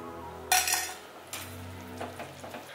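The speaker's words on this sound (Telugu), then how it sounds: "ఇప్పుడు మనం ముందుగా నెయ్యిలో వేయించి పెట్టుకున్న కిస్మిస్ ఇంకా కాజుని వేసుకొని కలుపుకుందాం" Ghee-fried raisins and cashews are stirred into sweet jaggery pongal, giving a few close metal-spoon clinks and scrapes against the pot, with a sharp burst near the start and softer, scattered taps after.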